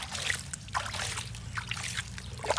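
Water is poured into a container for washing small toy trucks, making a close, steady trickling and sloshing for a few seconds without speech.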